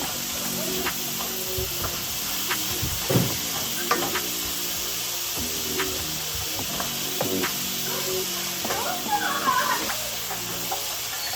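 Ground meat frying and being broken up in a pan for baked spaghetti: a steady broadband sizzle runs throughout, with repeated scraping and tapping of a utensil against the pan, fairly close, with no one talking.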